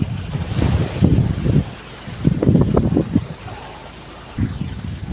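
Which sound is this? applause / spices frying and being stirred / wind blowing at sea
wind blowing at sea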